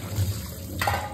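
Running water splashing as tender green leafy vegetables are rinsed clean, a steady close wash with a brighter surge of water near the end.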